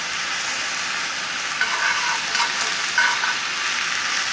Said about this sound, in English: And that's sauteing spinach.